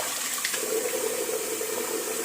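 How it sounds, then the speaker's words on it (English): A bathroom tap runs water to refill a basin before a wet shave. It makes a steady, close, hissing stream that carries on evenly for a couple of seconds. "I'm just going to refill with some water"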